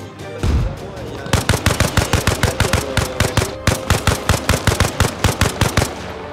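Long sustained burst of rapid machine gun fire in a first-person shooter game, loud and close, each shot sharply separated in a steady rhythm after a brief quieter lead-in.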